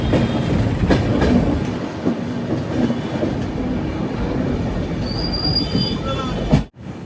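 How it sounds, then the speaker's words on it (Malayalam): Humsafar Express train rolling into Rampurhat Junction station, a steady close rumble of carriages with faint wheel squeal and clatter, ending in a brief drop near the end. "ട്രെയിൻ ഇപ്പോൾ റാംപൂർ ഹട്ട് എന്നൊരു സ്ഥലത്തേക്ക് എത്തുകയാണ്"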